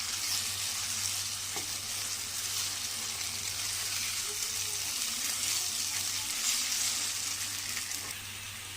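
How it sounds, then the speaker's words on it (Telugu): Green pea paste frying in ghee in a pan for a sweet payasam, a steady broad sizzle running unbroken throughout at moderate loudness, with faint stirring scrapes and no talking. "మనము ఈ నెయ్యిలో ఈ పేస్ట్ని చక్కగా ఫ్రై చేసేసుకుందాం"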